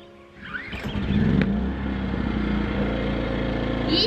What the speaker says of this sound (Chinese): 这个发电机太好拉了